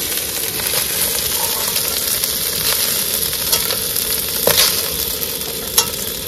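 Chanachur snack mix frying in about 20 grams of oil in a kadai, a steady close sizzling hiss with occasional sharper crackles and stirring scrapes throughout.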